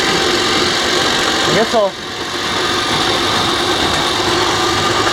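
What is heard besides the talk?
Tiger Shark straight shaft boat motor running at high speed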